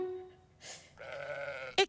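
A sheep in a children's read-aloud story gives a sustained wavering bleat, preceded by a soft tone and followed by a short sharp burst, heard alone without talk.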